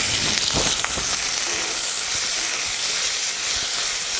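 Onion, green chillies, tomato and cashews sauté in a hot pan with a loud, close, continuous hiss and sizzle, broken by a few scraping stirs.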